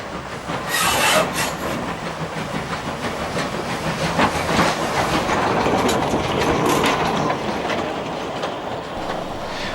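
A Peckett 0-4-0 steam locomotive rolls away toward a signal box at a heritage railway anniversary event, a continuous rumbling clatter of wheels and rails, fairly loud and steady throughout.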